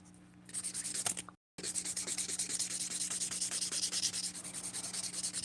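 A hand file works in quick circular strokes around an acrylic nail tip, a steady close scratchy rasp with a brief pause early on before the rubbing resumes.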